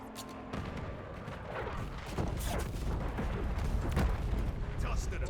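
Call of Duty artillery fire mission strike: a rolling barrage of booming impacts and crackling blasts builds and stays loud, heavy and continuous, with game voice callouts mixed in over it.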